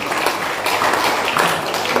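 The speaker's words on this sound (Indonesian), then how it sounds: "Semuanya mau tepuk tangan dong buat Tuhan Yesus." A church congregation claps for Jesus during an Indonesian sermon, a fairly quiet, continuous patter of many hands with no clear rhythm.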